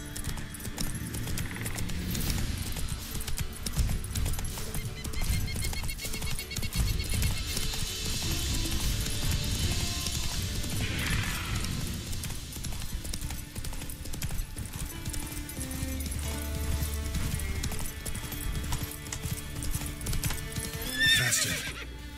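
Roach the horse galloping in The Witcher 3, continuous rhythmic hoofbeats with jangling tack, several neighs and whinnies along the way, layered over game music and ambient sound.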